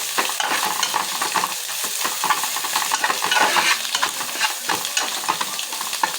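Spices with turmeric are stirred in a hot pan for egg rice, giving a dense, close sizzle with constant scraping and stirring and no voices.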